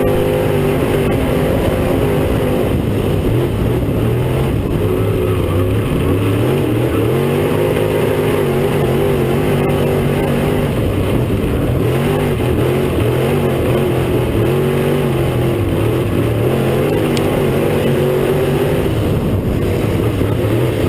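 Race cars lap at Cedar County Raceway on the first race night of the year. Several engines roar loudly and without a break, their droning pitch rising and falling as they circle the dirt track, with no voices above them.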